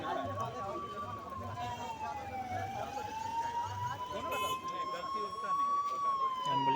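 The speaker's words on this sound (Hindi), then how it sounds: "एम्बुलेंस आ गया है।" An ambulance siren wails steadily at a distance, rising and falling slowly over a busy stadium entrance crowd, with voices chattering underneath.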